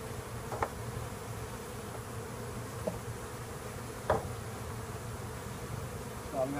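Honeybees hum faintly and steadily around an opened five-frame hive as its edges are pried loose, with a few soft knocks and clicks of equipment over the drone.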